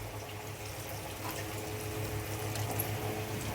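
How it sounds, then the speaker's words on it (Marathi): Water runs and splashes into a pan of fried onions in a home kitchen, a continuous soft flowing wash with a low steady hum beneath, no talking. "त्याच्यात थोडं पाणी टाकायला लागेल मला."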